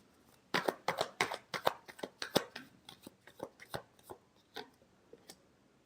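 Tarot cards being shuffled up close, a quick series of crisp riffling snaps and flicks that slow and thin out toward the end, with no talk over them.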